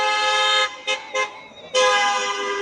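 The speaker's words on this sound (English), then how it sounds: "drivers have been honking in support of anti-ICE protesters outside the Department of Homeland Security office" Car horns honk in support of anti-ICE protesters outside a Department of Homeland Security office in Tukwila: a long loud blast, two quick short toots, then another sustained blare, close and dominant.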